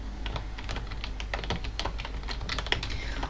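Rapid, steady clatter of keys on a computer keyboard as code is typed, close and continuous with no voices.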